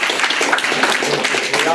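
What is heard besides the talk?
audience applause for the winning robotics team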